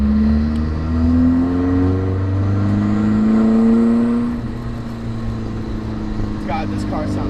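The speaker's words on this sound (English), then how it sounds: "God, this car sounds so good." A Nissan 240SX S14 accelerates on a road, its engine pitch rising steadily through the gears from inside the car, then settling to a lower cruising hum, with brief talk near the end.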